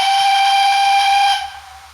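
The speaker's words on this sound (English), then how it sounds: "Blast of the horn" A model steam locomotive's sound module gives one loud, sustained steam whistle blast of about a second and a half, then cuts off, leaving a soft background hiss of steam.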